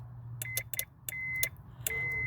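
A car alarm test wire touched to the park light circuit of a 2003 Honda Civic during a Scytek A15 keyless-entry alarm install, giving a steady low buzz under a series of short, sharp beeps and chirps.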